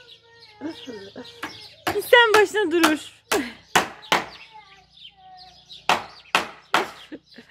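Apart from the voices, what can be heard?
chickens clucking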